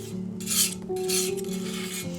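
Natural pigment being mulled into oil paint, a steady gritty rasping and rubbing with louder swells of scraping, close and alone with no voices.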